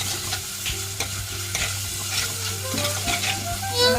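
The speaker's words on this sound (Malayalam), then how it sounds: "നമ്മുടെ വെളിച്ചെണ്ണ ചൂടായിട്ടുണ്ട് കേട്ടോ അപ്പം അതിലോട്ട് ഉള്ളിയും പച്ചമുളകും ഇഞ്ചിയും കൂടി ചതച്ചതാണ് അതിട്ട് കൊടുത്തിട്ട് നമുക്ക് നന്നായി ഒന്ന് വാട്ടിയെടുക്കാം" Crushed onion, green chili and ginger sauté in hot coconut oil with a loud, steady sizzle. Repeated scraping stirs of a spoon sound against the pan. No one speaks.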